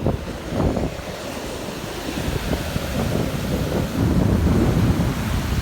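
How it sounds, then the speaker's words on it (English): Wind and rolling surf on a Cape San Blas beach in Florida on a drizzly October morning, with steady gusty wind rumble and breaking waves building slightly louder toward the end, and no voices. "It's windy."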